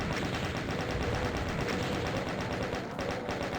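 Continuous rapid-fire chaingun from classic Doom, a dense unbroken rattle of shots at close range, loud and steady for the whole burst with no talking.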